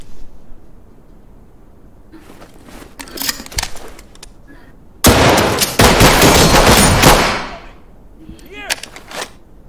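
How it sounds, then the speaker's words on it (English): Gunfire in the tactical shooter Ready or Not: a few scattered sharp shots, then a loud sustained burst of about two seconds and some later cracks, mixed with faint voices. "Yeah, I shot him."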